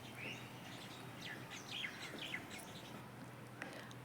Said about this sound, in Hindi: सुबह की चहचहाहट।